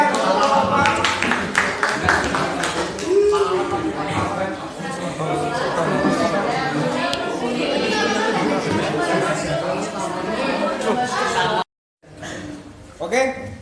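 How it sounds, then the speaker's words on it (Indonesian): Classroom applause for a student group, loud, dense clapping mixed with chatter from the room, running for several seconds before a brief gap and a quieter tail. "Beri tepuk tangan yang meriah untuk kelompok 4."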